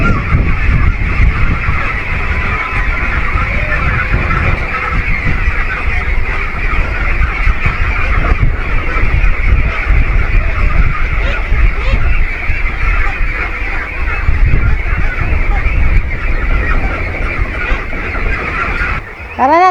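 Domestic ducks honk and quack in a steady, busy chorus close by on a farm, continuous over the whole stretch with some rustling around them.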